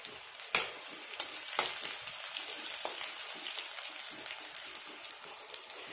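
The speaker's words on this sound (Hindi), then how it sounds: "ये हमारा भुजाता रहेगा आगे पे, जो तेल में भुजा रहा है" Capsicum sabzi sizzles steadily in hot oil in a village kitchen, a close continuous frying hiss broken by a few sharp pops and stirring scrapes, with no voices.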